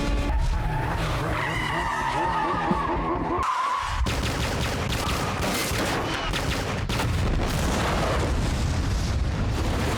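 A movie car chase with a nitroglycerin-fueled car skidding hard, tires screeching loudly and continuously over roaring engines, with crashes and bangs mixed in.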